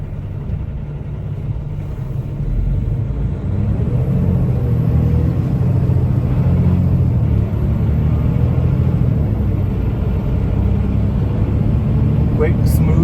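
A 2025 Peterbilt 567 dump truck with an Allison 4500 series automatic transmission rumbles along on a ride, its deep engine drone loud and steady from the cab after a quieter start.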